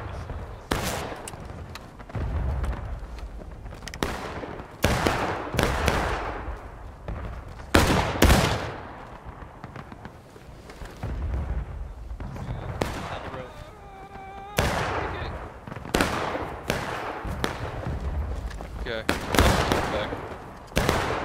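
Musket volleys crack out in repeated bursts across a Civil War battlefield in War of Rights, sharp shots stacking into ragged rolling fire, some near and loud, others distant, with shouted voices between.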